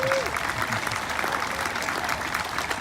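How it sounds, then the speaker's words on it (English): An audience claps for Missouri's newly titled governor, a dense steady wash of applause from a crowd indoors, with a brief voice at the very start. "I think you can clap for that"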